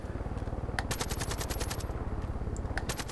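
Rapid automatic gunfire in a Far Cry game on Infamous mode, bursts of sharp repeated shots over a dense rumbling combat backdrop, with short pauses between volleys and no talking.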